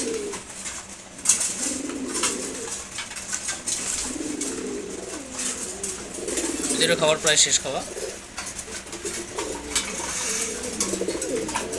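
A flock of Giribaz pigeons coos while pecking at their morning feed, a low murmuring that runs throughout beneath someone talking nearby, with some scattered clicks and shuffles.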